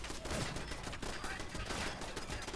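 Turret gunfire in Fallout 4, a rapid continuous rattle of automatic shots heard fairly faint and somewhat distant, steady throughout with no pauses.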